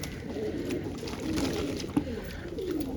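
Domestic pigeons coo repeatedly, soft low burbling calls, close by while the flock crowds around water to drink, with faint background noise and a small knock partway through.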